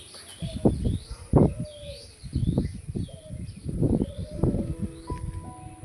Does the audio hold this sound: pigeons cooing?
yes